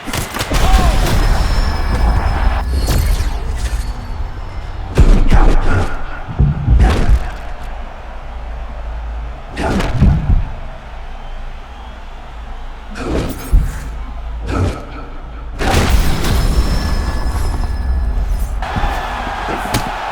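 Heavy punches thud and slam in bursts during a round of an EA Sports UFC 6 video game fight, loud impacts spaced by crowd and arena ambience, with commentators talking.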